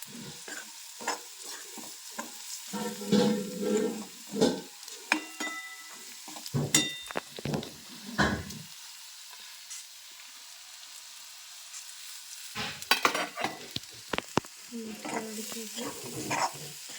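A spoon scrapes and stirs matki usal with peanuts and coriander in a pan, intermittent soft scraping strokes with gentle sizzling, fairly faint and close, pausing in the middle before resuming.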